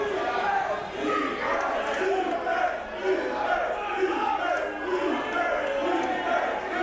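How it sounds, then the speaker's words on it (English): A crowd at a BODYSLAM! wrestling match between Joseph Conners and Michael Fynne cheers and chants in a steady, roaring swell, with a commentator talking over the noise. "The crowd cheering for Fynne as he's going."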